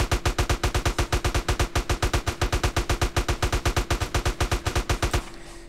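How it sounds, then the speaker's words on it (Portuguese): Rapid automatic fire from an M4 rifle in the video game GTA San Andreas, a steady, loud burst of evenly spaced shots lasting about five seconds, then stopping abruptly into quiet background noise. "Vamos tentar com o M4, que M4 é uma arma bastante forte."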